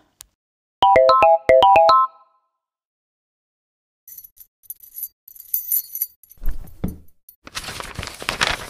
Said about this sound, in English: I found the keys to the van.